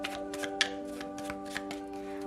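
Tarot cards being shuffled close up, a rapid run of papery riffles and slaps in quick succession over a faint steady hum.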